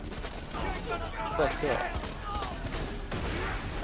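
Rapid gunfire in the video game Borderlands 2, crackling bursts mixed under excited talk and shouting from several players.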